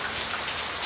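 Steady heavy rain pours down in a dense, unbroken hiss of drops, loud and close, with no other sounds standing out.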